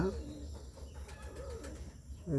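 Soft cooing of a pair of Bombay pigeon chicks close by, a few low throaty coos at the start and end, with faint background hum between.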